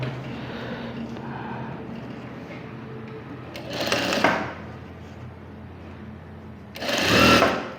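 A sewing machine stitches a band onto a blouse piece in two short, loud whirring runs separated by a quiet pause. A low background hum sits beneath the stitching.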